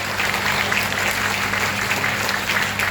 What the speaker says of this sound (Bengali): আমরা সকলেই করতালি দেব।